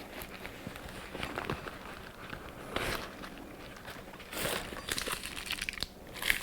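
A thin paper protector is peeled off the end of a battery-powered Soviet-style optic for an SVD Dragunov-type rifle, giving faint, scattered crinkling and rustling with a few sharper tearing bursts.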